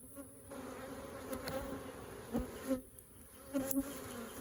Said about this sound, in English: Bring the nurse bees down here.